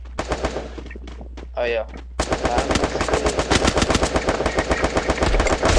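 Gunfire in the Free Fire mobile video game: a few scattered shots, then a sustained rapid automatic burst that fills the second half, loud and close, with a brief spoken remark early on.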